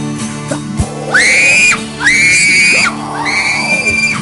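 Three long, loud, high-pitched screams come one after another with brief gaps, each rising sharply before holding steady, over a low, busy rumbling background.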